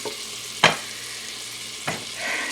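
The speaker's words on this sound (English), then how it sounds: "So you can see that the butter is melting nicely." Butter melts in a hot Instant Pot set to saute, giving a steady soft sizzle close by, broken by two sharp scraping stirs, one loud and one fainter.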